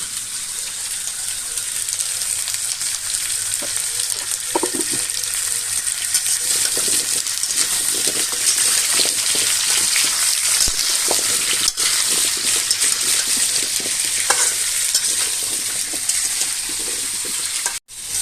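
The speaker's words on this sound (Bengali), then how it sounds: "মিষ্টি কুমড়োটা একটু আবার নেড়ে নিচ্ছি নেড়ে লবণটা সুন্দর করে মিক্স করে দিলাম" Sweet pumpkin pieces fry and get stirred in a pan, a loud, continuous sizzle with scraping and tapping from the spoon throughout, no voices.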